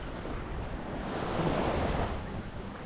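Ocean surf at Playa Dominicus beach in the Dominican Republic, a steady broad wash of breaking waves that swells slightly midway, mixed with wind buffeting the microphone, with no speech.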